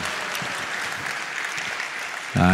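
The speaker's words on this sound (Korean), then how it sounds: "우리 박수 한번 해주세요." A church congregation applauding during an afternoon service, a steady dense patter of many hands that holds evenly throughout before a voice cuts in at the very end.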